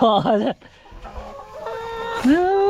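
Farm chickens clucking and crowing close by in a short burst of harmonic calls, with one more rising call near the end and a low rural background in between.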